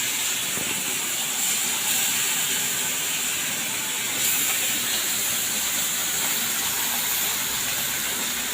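Fish sizzling in hot oil in a pan, a steady, loud hiss and crackle that holds constant throughout with no voices.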